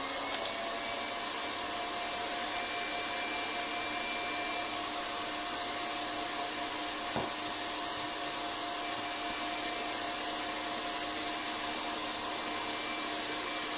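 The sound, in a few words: electric whisk whisking shortbread mixture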